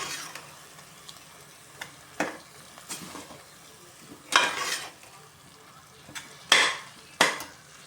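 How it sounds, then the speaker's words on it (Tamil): Mint rice with green chillies being sautéed and stirred in a pan, a soft sizzle underneath with repeated sharp scraping strokes of a spoon against the pan, several louder ones near the end. "நல்லா வதக்கி விட்டுருவோம்"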